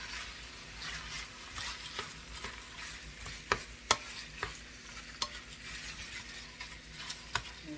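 Beef chunks browning in a stew pot sizzle steadily throughout, with sharp clinks and scrapes as a utensil stirs the meat, alone with no talk.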